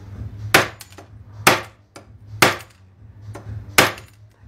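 Hammer taps adjusting the lever on a Wahl hair clipper: four sharp, evenly spaced metallic blows about a second apart, close by, with faint lighter knocks between them over a low background hum.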